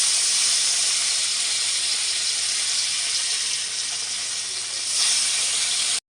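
Fish frying in hot oil, giving a continuous loud hissing sizzle that holds steady for several seconds before stopping abruptly.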